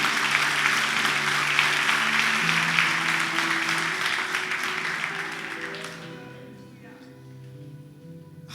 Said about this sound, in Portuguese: Você pode aplaudir bem forte ao nome do Senhor Jesus?